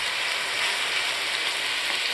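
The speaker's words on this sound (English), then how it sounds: "So here's my ground turkey already in the skillet." Seasoned ground turkey frying in a skillet over medium heat: an even, close, steady hiss of sizzling meat with no talking.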